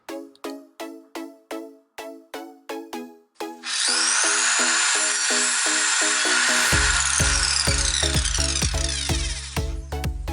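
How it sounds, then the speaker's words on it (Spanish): Evolution R210MTS compact table saw cutting softwood: a steady, loud whining cut that runs on for several seconds after a rapid series of clicking start-up knocks, with a low rhythmic thumping joining near the end. "Lo primero que vamos a cortar es una madera blanda."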